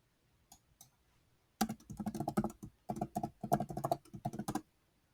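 Password typed on a computer keyboard, a quick run of crisp, close keystrokes in two bursts with a short pause, after a near-silent start and ending abruptly in quiet.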